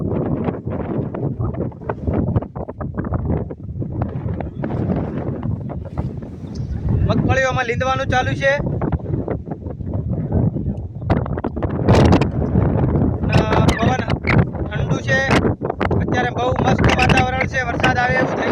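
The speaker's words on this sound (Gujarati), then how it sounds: "બહુ જ પવન છે અહીંયા" Strong gusty wind buffets the microphone in an open groundnut field before rain, a rough continuous roar with louder surges, while someone talks over it.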